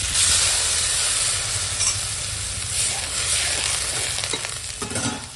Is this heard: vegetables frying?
yes